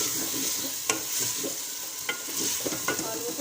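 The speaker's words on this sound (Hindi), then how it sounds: "इसको फ्राई कर लेते हैं इसके साथ।" Potatoes frying in a pan with a steady broadband sizzle, punctuated by several sharp utensil scrapes and stirs, close and moderately loud with no talking.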